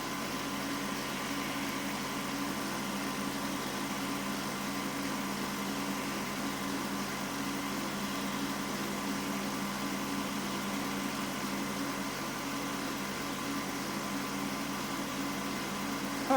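A wood lathe spins a wand blank at 2,800 RPM, giving a steady, even mechanical whir and hum that holds constant and moderately quiet throughout with no pauses.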